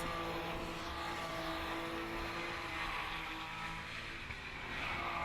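Porsche Carrera Cup race cars at Zandvoort roar past in a continuous, loud wash of engine noise with no talk, the sustained drone steady throughout.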